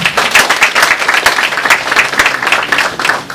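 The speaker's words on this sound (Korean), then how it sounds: "박수 한번 쳐주십시오." An audience at a 2016 theatre award ceremony gives close, lively applause with steady, overlapping claps for the whole stretch.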